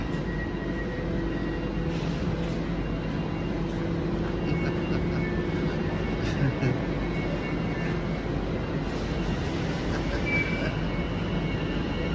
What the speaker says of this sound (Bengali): অ্যাকচুয়ালি ট্রেন একটা ছাড়ি দিছে